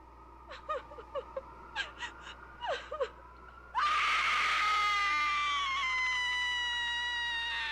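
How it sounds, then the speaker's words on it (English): A Spirit Halloween animatronic gives a series of short, choppy sobbing cries and then breaks into one long, loud, sustained shrill scream that keeps going to the end. "it's going to spin around and get scary on you and start crying and scream and crying and scream"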